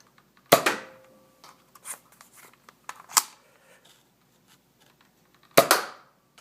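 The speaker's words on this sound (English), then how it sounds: "Stock firing of the Nerf Firestrike." A Nerf Firestrike toy blaster fires darts, giving sharp close snaps, two loud shots with a softer one between, separated by small clicks and handling noises of the plastic mechanism, with no talking.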